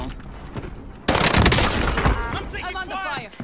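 Call of Duty: Warzone match where a sudden loud burst of automatic fire erupts close by after a quieter lead-in, continuing in a dense rattle while a voice shouts over the shooting.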